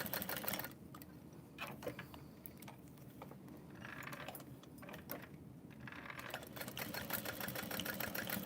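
A sewing machine stitches a bag strap, a quiet steady mechanical whir with rhythmic needle ticks running throughout, faint and close with no talk.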